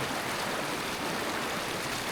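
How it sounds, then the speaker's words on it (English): A mountain river on a solo traverse of Mt Sifton in Canada rushes in a steady, dense wash of water noise, close and continuous with no other sounds. "We're here on the river."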